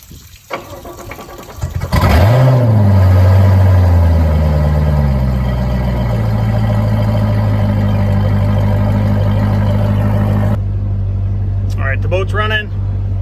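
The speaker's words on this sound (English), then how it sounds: "The boat's running." A Volvo Penta Gen 5 V8 boat inboard engine cranks and catches, then settles into a loud, steady, low idle that runs on; a voice speaks briefly near the end.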